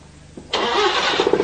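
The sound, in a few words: Paykan car engine starting on voice command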